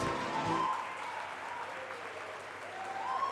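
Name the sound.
applause for graduating students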